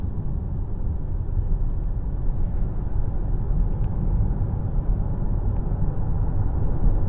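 Inside a 2025 Tata Harrier EV, a quad-motor electric SUV driven in city mode, there is a steady, low road and cabin rumble. The noise stays even and muffled throughout, with no voices.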